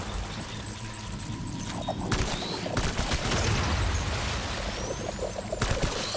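A burst of gunfire in Death Stranding thumps and cracks amid booming game ambience, the shots rising near the middle and then fading under rumbling background effects, with no voice over them.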